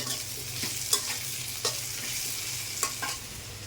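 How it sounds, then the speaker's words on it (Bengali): Potatoes frying and being stirred in a pan, a steady soft sizzle with a few sharp scrapes of the spoon against the pan, close and alone. "আলু ভাজা হয়ে গেছে"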